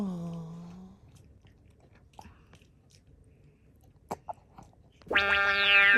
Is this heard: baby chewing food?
yes